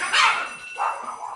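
A dog barks indoors, two sharp, close barks in quick succession followed by a fainter yip.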